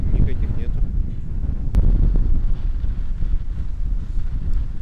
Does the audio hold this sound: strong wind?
yes